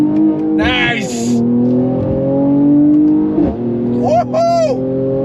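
A 2023 Mercedes-AMG C43 in second gear accelerates hard at full throttle, its loud engine rising in pitch through two surging pulls heard from inside the cabin, with brief talk and exclamations from occupants over the noise.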